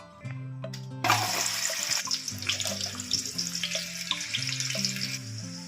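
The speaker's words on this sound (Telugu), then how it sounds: "ఇలా వాటర్ పోసేసి ఒక 2-3 టైమ్స్ బాగా వాష్ చేయాలండి" Water runs steadily from a tap over dry fish being washed in a kitchen, with splashing and sloshing throughout the short stretch, fairly close and alone.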